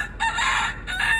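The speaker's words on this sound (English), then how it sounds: "Oh, Mr. Rooster's got a lot to say" A rooster crows close by, two loud strained calls in quick succession with a short gap between them.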